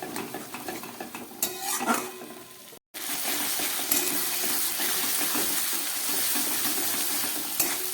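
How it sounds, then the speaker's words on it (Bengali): Ginger, garlic and a dried chilli fry with onions in a pan, a steady close sizzle broken by a brief gap near the third second, with spoon scrapes and stirring clinks across it and no voices. "এবার এটাকেও আবার একটু ভেজে নিচ্ছি হালকা করে"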